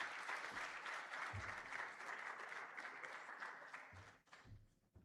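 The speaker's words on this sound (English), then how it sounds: "let's hear it for one more time. A big round of applause." A big round of applause from the audience at the JTA Golden Torch Awards ceremony, dense continuous clapping that holds steady for several seconds before tapering off, with faint voices underneath.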